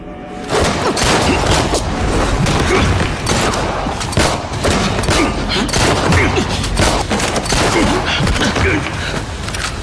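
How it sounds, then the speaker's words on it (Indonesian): Heavy gunfire in an action film shootout between a master and his student, a dense, loud, continuous barrage of shots and booms lasting throughout with no pauses. "Xiaomei yang melihat keberadaan Jintai akan menembak gurunya, terpaksa menembak teman tumbuh dewasanya"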